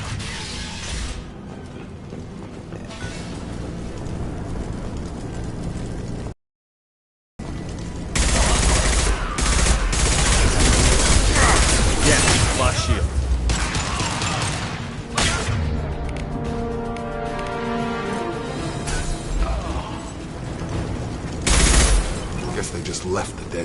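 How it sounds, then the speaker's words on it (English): Blue Suns mercenaries and Vorcha firing in the video game Mass Effect 2: sustained loud automatic gunfire with rattling mechanical clatter and impacts, broken by a brief silent gap, with a voice speaking at moments. "Blue Suns and Vorcha shooting anything that moves."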